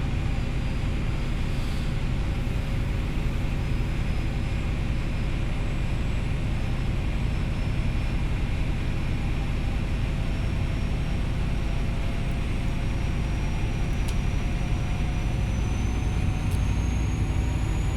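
The Valenta engine of an HST train in Train Simulator 2017, on the Exeter to Paignton route: a steady, loud diesel drone with a deep rumble and faint whining tones, unbroken for the whole stretch and heard alone.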